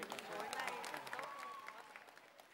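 An audience at a televised dance competition final claps steadily after a performance, soft and fairly distant, while a host speaks over the applause.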